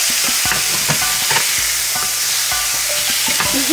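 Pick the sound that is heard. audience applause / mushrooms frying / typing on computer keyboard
mushrooms frying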